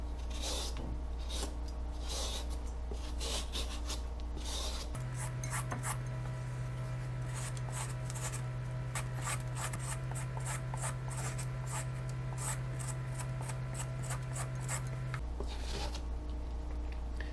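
A peeler shaves long strips from an oversized garden zucchini, giving a steady run of quick, close scraping strokes over a constant low electrical hum, with no voices.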